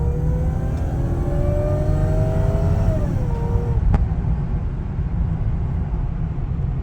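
Supercharged V8 Toyota Celsior from TOM'S Racing accelerating back up to speed, a loud continuous engine drone with rising whining harmonics that dip as it shifts, followed by a steady cruising hum.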